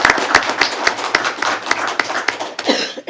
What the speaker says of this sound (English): how about one more round of applause for our Board of Education?